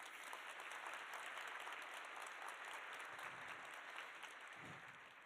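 A room of attendees at a Medical Match Day breakfast event gives a steady round of applause, a dense wash of clapping that carries on evenly without voices.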